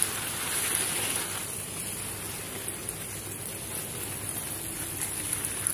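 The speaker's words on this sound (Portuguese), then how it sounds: "Tô aqui regando o jardim, olhando minhas plantinhas." Garden plants in winter, including orchids, being watered with a spray: a steady hiss of fine droplets pattering on leaves and soil, even and close throughout, no talk.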